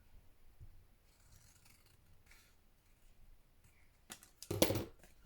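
Scissors trimming paper for a junk journal page, a quiet room with soft faint rustling before a brief, close cluster of sharp snipping cuts near the end.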